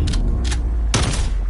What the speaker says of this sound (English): It's that shotgun.